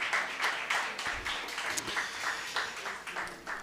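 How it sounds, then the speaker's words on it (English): Audience applause at a CPUT Live launch event follows a choir's performance: a quiet, steady patter of many hands clapping from a distance, with little talk over it. "A round of applause, ladies and gentlemen"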